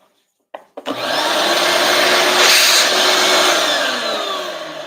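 A drill bores into the thick metal wall of an MH51B fuel tank, starting abruptly after a couple of brief knocks and then holding a loud, steady, high-pitched grinding whine close by with no talking.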